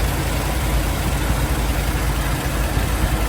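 A 1974 Dodge W200 truck with a 360 engine idles steadily, a constant low rumble with broadband hum running evenly throughout, with no voices.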